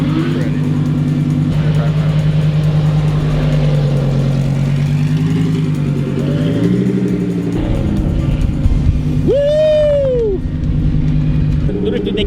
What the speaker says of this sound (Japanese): 16歳でランボルギーニドリフト。